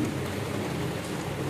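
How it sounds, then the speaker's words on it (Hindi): Steady rain falling and pattering on surfaces during a daytime downpour, a dense continuous hiss with low rumbling underneath, fairly loud and close, no voices. "अभी बारिश हो रही है"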